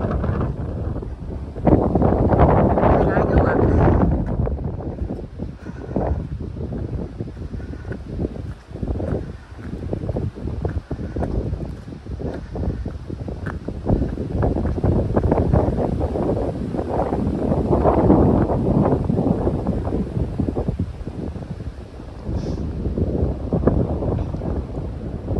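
Strong wind gusts across a mountain trail high on the Appalachian Trail, roaring and buffeting the microphone in a loud, continuous low rumble that surges and eases over about 25 seconds, with no voices.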